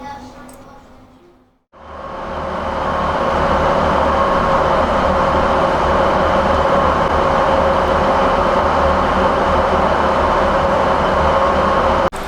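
A Newcastle to Hexham shuttle train reversing out of a westbound platform to cross onto the eastbound track, heard as a steady, loud rumble with a droning tone that builds after a brief quiet gap and holds throughout.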